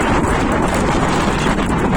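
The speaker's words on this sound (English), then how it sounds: "So, it's windy today." Steady wind buffeting a microphone outdoors, a dense, continuous rumbling roar with no letup, loud and close throughout.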